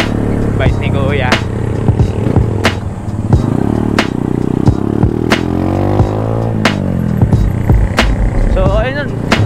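A cheap motorcycle climbs a hill on a ride near a lighthouse and shrine in the Philippines, engine note rising and falling up close with clattering knocks, wind and someone talking over it.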